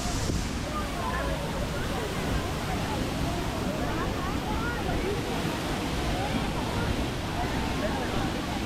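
Ban Jhakri waterfall in Gangtok crashes down with a loud, dense, unbroken roar of pounding water close by, drowning out everything else.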